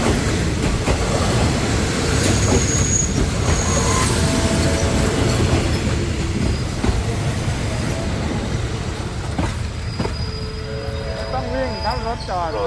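An ordinary passenger train, number 233, rolls up to platform 3 at Bang Sue Junction station, with continuous loud rumbling and rail clatter, brief brake squeals, and station announcements and voices over the train.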